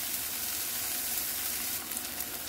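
Mixed egg sizzling in a hot frying pan alongside fried plantain, a steady bright crackle of frying held close and continuous with no voices.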